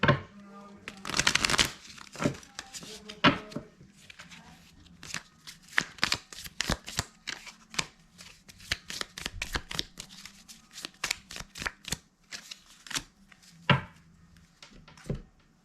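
Oracle cards being shuffled by hand, a long run of quick papery riffles, slaps and crinkles in uneven bursts, fairly close and moderately quiet, with no speech.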